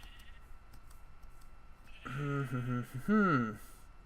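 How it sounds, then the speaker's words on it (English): A sheep bleating in Minecraft, two close, wavering bleats in quick succession following a quiet stretch with faint clicking. "Hello, sheep."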